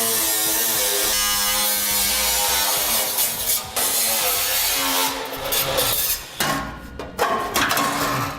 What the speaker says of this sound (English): We'll just use a cutoff wheel.